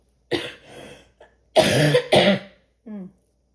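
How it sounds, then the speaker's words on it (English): Several close, harsh coughs in quick bursts, with short pauses between them and a final softer one. "I need to cough."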